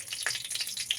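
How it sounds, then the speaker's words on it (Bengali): Spices and a bay leaf sizzle in hot oil as khichuri begins, a soft continuous crackle with faint pops, close and alone. "একটু ফোড়ন দিয়ে দিলাম, আর সাথে দিয়ে দিব তেজপাতা"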